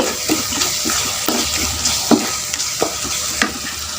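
A spoon stirs a thick tamarind puliyodharai mix seasoned with asafoetida in a pan, giving rhythmic scraping strokes about every half second over a close, bubbling sizzle.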